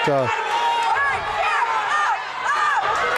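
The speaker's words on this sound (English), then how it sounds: "trying to cheer these guys on to a victory." A high school wrestling team sectional crowd cheers and whoops in a gym, loud and steady, with rising shouts and a commentator talking over the noise.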